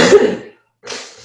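A single sharp sneeze bursts out nearby, followed by a brief silence and a softer second exhalation.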